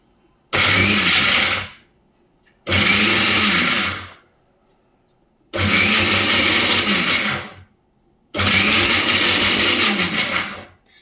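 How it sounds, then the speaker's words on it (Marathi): A mixer grinder blending coconut chutney runs in four loud bursts of roughly one and a half to two seconds each, with short silent pauses between them as it is switched on and off. "मिक्सर आपल्याला चालू बंद चालू बंद करतच ही चटणी बनवून तयार करायची आहे"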